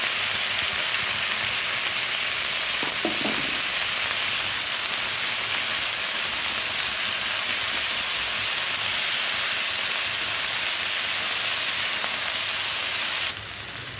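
Vegetables with salt and turmeric frying in a pan give a loud, continuous broadband sizzle and hiss, close and unbroken, with a brief clatter early on and no talking.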